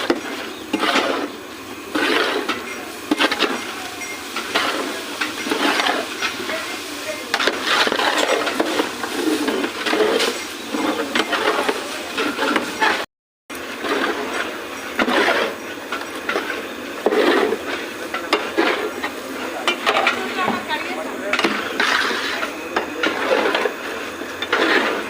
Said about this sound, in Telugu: ఇప్పుడు మిక్స్ చేస్తున్నారు.